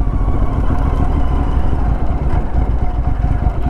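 A Royal Enfield Interceptor 865cc motorcycle engine fitted with a Domino XM2 quick throttle runs steadily and loud, a dense, continuous low rumble with slight clatter throughout, close up and with no talking.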